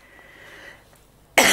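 A single sharp, loud cough bursts out at the very end after a quiet, near-silent stretch.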